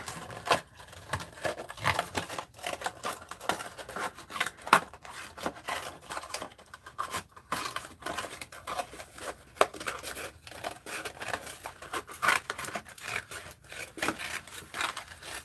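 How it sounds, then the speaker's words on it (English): Scissors cut apart a cardboard Bigelow salted caramel tea box, a faint, quick run of snips and crinkling cardboard that carries on for the whole stretch. "Let's cut this tea box."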